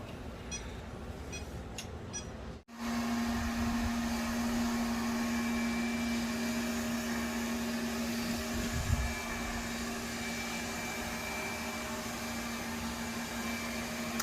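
An iLife B5 Max robot vacuum cleans carpet at its default suction power. After a short quiet start it switches on to a steady, fairly soft whirring drone with a constant motor hum that carries on evenly.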